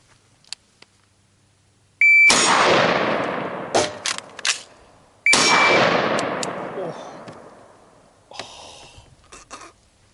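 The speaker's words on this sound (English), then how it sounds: "fire 1 shot, emergency reload, fire 1 shot" Two sharp, loud rifle shots during a T1C drill, each followed by a long ringing decay. Between them come metallic clanks of an emergency reload, and quieter handling clicks follow the second shot.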